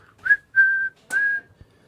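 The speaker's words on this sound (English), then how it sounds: "Blow the whistle." Three sharp whistle blasts, the first short and the next two longer and held at a steady pitch, heard alone and clear with short silences between them.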